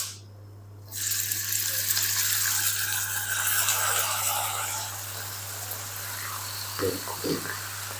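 Minced meat keema hits a hot pan of whole spices with a sudden loud sizzle that fades slowly to a steady frying hiss, under a constant low hum, with a few knocks near the end.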